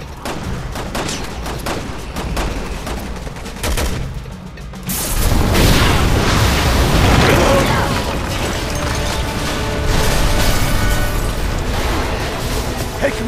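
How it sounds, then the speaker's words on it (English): A gas explosion erupts in the Resident Evil 6 video game after scattered gunfire, a loud, dense blast that swells and then rumbles on steadily with crackling debris for several seconds. "Someone shoot the gas! We can blow these things to kingdom come!"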